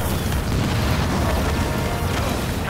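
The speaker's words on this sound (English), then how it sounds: "Enemy structure destroyed." An enemy structure in a video game blows up in a loud, sustained rumbling explosion, a dense booming roar that stays near and constant for the few seconds heard, with no voices.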